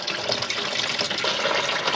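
Coolant draining from a GTO radiator, a steady close trickle and splash of liquid running out without pause for the whole short stretch.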